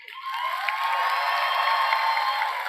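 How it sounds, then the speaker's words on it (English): Audience at a 2022 high school graduation ceremony for Booker T. Washington High School, a steady wash of clapping with some cheering that swells in quickly and holds at an even level throughout. "Please join me in giving these students a round of applause as well."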